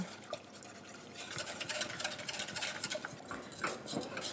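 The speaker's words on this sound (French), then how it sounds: "en tournant avec un fouet" Rapid, continuous whisking of polenta in a saucepan, a busy scraping and stirring texture with small clinks, steady and close with no voices.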